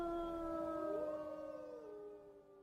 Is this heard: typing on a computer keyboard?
no